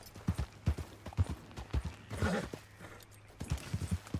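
Horse hooves clip-clop at a steady walking rhythm in Red Dead Redemption 2, close and moderately loud, with a brief soft rider's voice or horse snort in the middle.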